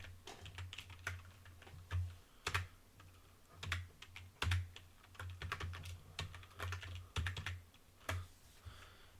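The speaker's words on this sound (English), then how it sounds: "let's just type in Neofetch now" Rapid clicking keystrokes on a computer keyboard as a Linux command is typed in, irregular bursts of close, quiet taps with brief pauses and no talking.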